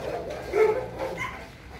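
Dogs at a kennel giving a few barks and yips at middling distance, with some faint voices and background noise around them.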